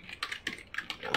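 Fingers tap out an email address on a computer keyboard in a quick, close burst of about five or six keystrokes.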